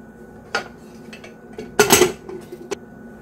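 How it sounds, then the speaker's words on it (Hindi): Metal clanks and scrapes as a heavy pressure cooker lid is handled and fitted onto the cooker, a few sharp knocks with a louder rattling cluster in the middle. "अब हम कुकर में ढक्कन लगा देंगे"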